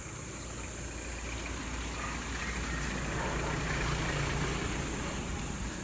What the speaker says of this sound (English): here's the engine sound so rough